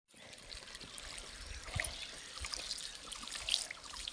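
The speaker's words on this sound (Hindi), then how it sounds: "ये बो दी हमने तुलसी, और इसमें पानी भी डाल दिया।" Water trickles and pours onto freshly sown holy basil (tulsi) in a village setting, a steady close splashing stream with a few brief drips, no talking.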